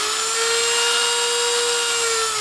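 Power drill from a 162-piece drill and bit set spinning its bit at low speed, around 1000 RPM, as a steady close whine with a clear, slightly rising tone and no talk.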